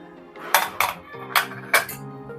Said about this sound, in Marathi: आपण झाकण उघडूया।